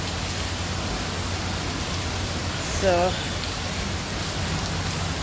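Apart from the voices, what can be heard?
rain falling during a storm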